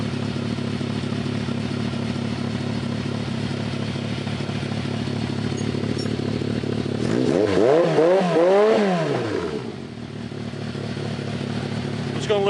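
Swapped-in engine on a cross kart idling steadily with a throbbing, clattering exhaust note, then revving up and back down through a rising and falling sweep before settling to idle again, close and loud.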